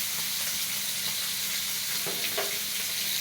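Food frying in a pan during home cooking, a steady close sizzle with a few faint stirring scrapes, moderately quiet and without any voices.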